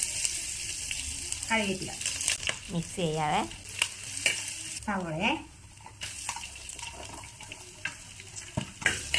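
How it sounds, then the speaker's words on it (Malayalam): Mustard and fennel seeds fry in coconut oil in a clay pot for crab curry, a steady close sizzle and crackle with occasional stirring scrapes beneath a person talking. "വെളിച്ചെണ്ണ ഒഴിച്ചിട്ടുണ്ട്, കടുക് ഇട്ടിട്ടുണ്ട്, പെരുംജീരകം"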